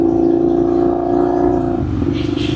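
A loud, steady engine rumble from a 2019 Indian FTR 1200S motorcycle exhaust, droning continuously at close range with a slight shift near the end.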